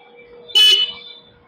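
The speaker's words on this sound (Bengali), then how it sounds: "হর্নের সাউন্ড আপনাদের একবার শুনিয়ে দিচ্ছি আমি" Honda Hornet 2.0 motorcycle, a 2024 BS6 model with a 184.4 cc air-cooled single-cylinder engine, gives one short, loud, shrill horn blast of about a third of a second, heard alone in a quiet setting.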